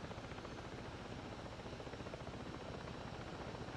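Helicopter in the Ghost Recon Breakpoint video game climbing in flight, a steady dense rotor and engine roar that holds at an even, loud level throughout with no voices over it.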